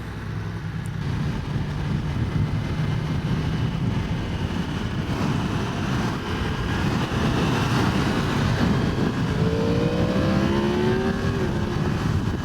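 A 2023 Yamaha MT-10SP motorcycle on a test ride, its engine droning loud and continuous under heavy wind rush, with rising tones late as it picks up speed.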